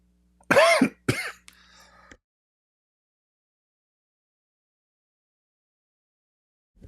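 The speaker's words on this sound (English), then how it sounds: "Sorry, I have to cough." Two harsh, close coughs from a man with acid reflux in quick succession, the second shorter, followed by a brief throaty rasp and then silence.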